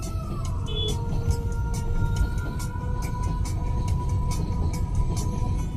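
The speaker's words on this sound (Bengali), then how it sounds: "ট্রেন আসছে, এটা কাঞ্চনকন্যা এক্সপ্রেস যাচ্ছে।" The Kanchankanya Express rolls across the Farakka bridge, heard from a passing car as a steady low rumble with regular wheel clacks and a long tonal horn.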